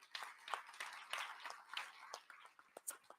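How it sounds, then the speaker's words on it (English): A crowd applauds for Kathy at a Trump event on voting rules: dense, fairly faint clapping with sharp individual claps scattered through, steady for the whole stretch. "Please give Kathy a great round of applause."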